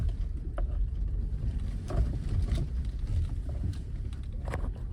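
A Mahindra Scorpio N SUV creeps in first gear over slippery high mountain terrain on the way to Umling La, giving a steady low rumble mixed with wind noise and no talking.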